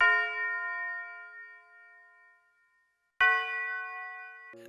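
Synth bell melody from a Yeat-style rap beat: two bright struck notes with ringing overtones, the first decaying slowly to near silence before the second strikes, followed by quick short hits, clear and alone.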